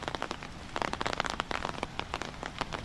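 Rain pattering on village farm fields, a dense, close patter of drops with irregular sharper hits, steady and moderately quiet with no one speaking.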